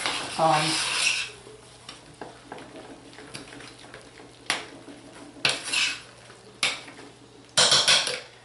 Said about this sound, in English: Give it a nice stir around.